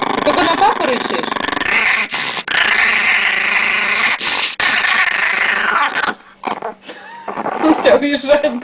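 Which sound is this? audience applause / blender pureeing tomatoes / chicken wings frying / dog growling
dog growling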